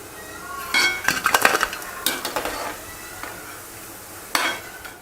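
Fried wheat-flour onion pakoda lifted from a hot oil pan with a metal utensil, bringing scattered clinks and scrapes against the pan over a light sizzle, with a louder clatter near the start and another toward the end.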